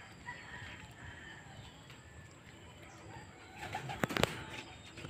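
Racing pigeons arriving at the loft after a club training flight, with soft cooing and faint bird calls over quiet ambient noise, then a brief burst of flapping wings near the end.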